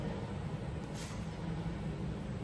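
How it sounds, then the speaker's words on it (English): A semi truck delivering a Conex container arrives, giving a short, sharp air-brake hiss over a low, continuous engine rumble heard from a moderate distance. "I was expecting a tow truck, not a semi truck"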